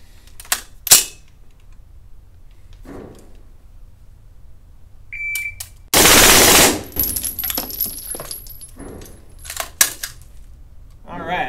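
A rifle fires on full auto in two long bursts, loud and close, with a few separate shots before, followed by near silence.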